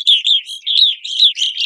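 Evening grosbeaks call at a winter feeder in Northern New York, a series of loud, clear, high chirps in quick succession, close by with nothing else heard.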